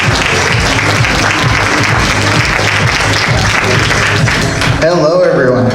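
A large audience at the Small Business Expo Manhattan 2021 gives a keynote speaker loud, sustained applause with crowd noise mixed in. The clapping cuts off abruptly near the end as a voice begins over the room.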